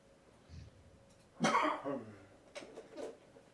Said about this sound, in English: How's your winter cough going